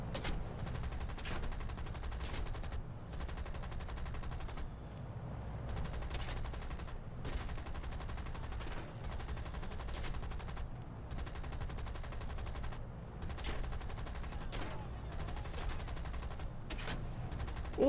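Aircraft machine-gun fire aimed at a Bf 110 in War Thunder: bursts of rapid gunfire repeat through the whole stretch, with short gaps between them, over a constant engine drone. No voices.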